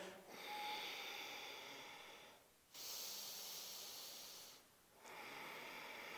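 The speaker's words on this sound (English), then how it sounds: "a beautiful deep ujjayi breath, so inhaling through the nose and then slightly constricting the back of the throat, the glottis, and exhaling" Deep ujjayi yoga breathing through the nose with a constricted throat, heard as three long, close, hissing breaths separated by short silent pauses.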